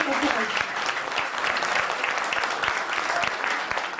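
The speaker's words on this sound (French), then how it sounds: "je voudrais qu'on commence la soirée par un grand applaudissement pour sa détermination" An evening gathering of supporters gives sustained applause for a woman on the 25th day of her hunger strike, a steady, close wash of many hands clapping.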